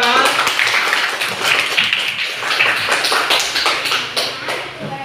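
Classroom applause rings out as pupils clap together in a dense, continuous patter of overlapping hand claps for the whole stretch, close and fairly loud with a lively room feel.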